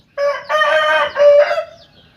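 A rooster kept at a Thai gamecock pen crows once, close and loud, giving a clear multi-part call that rises and then trails off.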